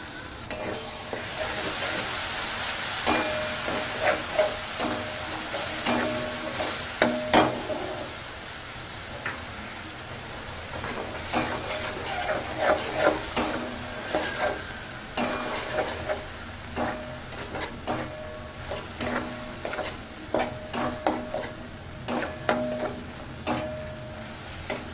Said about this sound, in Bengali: টমেটো এবং মশলা ভালো করে ভাজা হয়ে গেছে